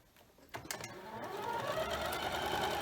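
A domestic sewing machine stitches pieced quilt block fabric, starting with a few handling clicks before a steady, moderately quiet motor hum builds and continues to the end.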